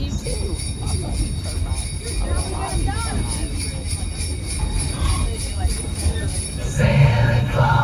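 A Christmas train ride at Dollywood rumbles and clatters steadily up close, with a brief jingling near the end and voices mixed into the busy noise.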